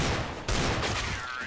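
Rapid gunfire in Counter-Strike during a FACEIT League 2015 pro match, a dense continuous burst of loud shots filling the short moment with a brief dip midway.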